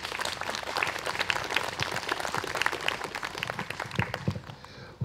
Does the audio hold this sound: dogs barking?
no